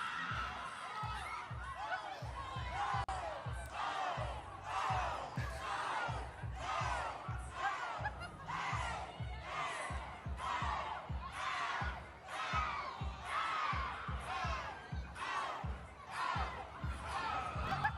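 A large crowd reacts loudly, with rolling cheers, shouts and laughter in repeated bursts that swell and surge continuously over the full stretch.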